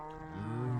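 A single drawn-out, low mooing call from a Minecraft cow, like a cow's moo with a slightly synthetic tone, fairly quiet and close.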